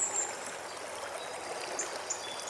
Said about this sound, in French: Plusieurs cours d'eau s'y rejoignent.